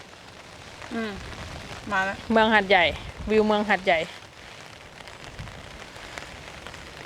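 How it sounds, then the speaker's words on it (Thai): Heavy rain pouring over the city of Hat Yai, Thailand, a continuous broadband wash that runs steadily beneath someone talking in the foreground. "ฝนตกหนักแล้วครับตอนนี้"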